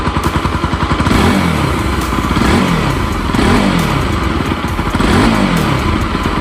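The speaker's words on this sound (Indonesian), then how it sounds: "Suara mesinnya seperti ini teman-teman, jelas." A Kawasaki Pulsar 200NS motorcycle engine revs up close, its loud, dense exhaust note rising and falling in repeated throttle blips with no talking.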